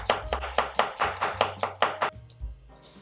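Two peeled red shallots are sliced with a knife on a board, about nine quick, even, close-up knocks in a steady rhythm, then the cutting stops.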